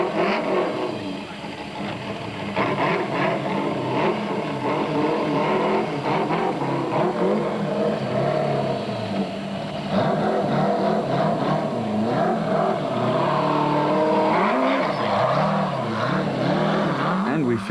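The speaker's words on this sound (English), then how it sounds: "While Naim Musaji thought the bridge would be a good time to impress spectators with his car's high limit for revs." Race car engine revving hard at high revs near a bridge during the 2006 Sun City 400 off-road rally, a loud sustained roar with rising and falling pitch close by throughout.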